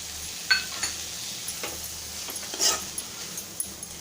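Spicy Malvani-style bitter gourd masala being stirred in a pan, with soft scraping strokes and a few light spoon taps over a faint, steady sizzle, close and unaccompanied by talk.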